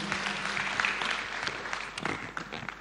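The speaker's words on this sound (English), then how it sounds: "Just clap for her as she sits down." Applause from the audience at a Women in Construction forum hosted by the Roads Ministry, moderately loud and steady for nearly three seconds, with a few faint voices mixed in.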